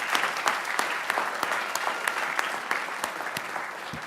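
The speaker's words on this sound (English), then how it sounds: "Give yourself a nice round of applause." At a school board meeting, a room of people applauds honored students with a moderate round of clapping, individual sharp claps standing out against the steady patter, continuing evenly throughout.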